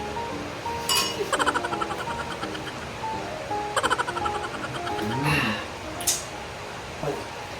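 Glasses clink together in a toast during a street-food meal, with a few bright, quick clinks in little flurries over a background of chatter and voices.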